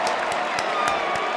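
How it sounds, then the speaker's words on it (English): An audience applauding at a live event, a steady wash of clapping with a few sharper claps standing out at regular intervals, heard briefly at moderate loudness. "give yourselves a round of applause."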